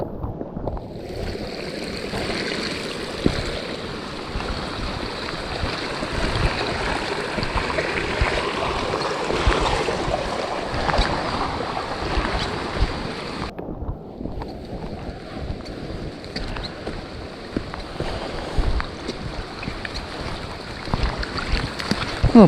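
River flowing near Wallace Falls, a continuous broadband rush of water with wind noise, steady and fairly close throughout, with no talk.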